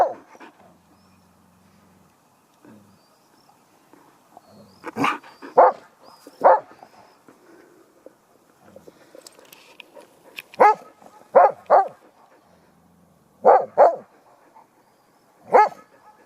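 A Belgian Shepherd Groenendael dog barks in scattered short bursts, sometimes in pairs, close and fairly loud, with soft whimpers in the quieter gaps.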